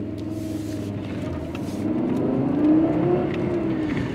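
A turbocharged Fiat engine of 220 brake horsepower runs and builds revs, a steady low rumble rising in pitch and loudness midway before holding, heard close from inside with no talk.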